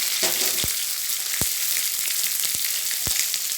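Bitter gourd fries in hot oil for a Bengali mustard-and-vegetable dish, giving a loud, even sizzle with four sharp spatula knocks from stirring at irregular intervals, and no talking.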